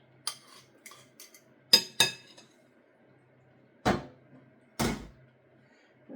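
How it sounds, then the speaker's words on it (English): A spoon clinks and scrapes against a bowl while melted butter is stirred into mashed banana, giving a few sharp knocks and taps spread unevenly over several seconds, with quiet pauses between them. "mash the banana, stir in the melted butter"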